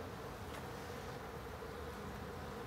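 Honeybees buzzing around Langstroth hive frames during a transfer to another hive, a steady soft drone of many insects close by, faint and continuous with no talking.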